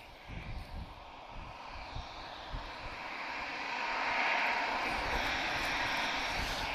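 An airliner moves at Lisbon Airport, a steady jet engine roar that swells and grows louder in the second half of the clip, with no voices over it.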